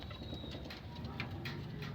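Pigeons cooing softly among scattered light flutters and scratching, a low murmuring flock nearby with a faint background hum.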